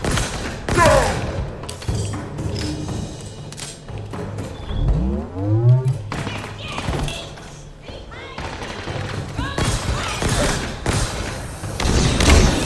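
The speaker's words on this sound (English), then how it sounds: "Grenades." Grenade explosions in the video game Halo Infinite, played on Legendary difficulty on Xbox Series X: heavy booming thuds amid continuous gunfire and battle noise, loud and dense throughout, with a voice talking over it.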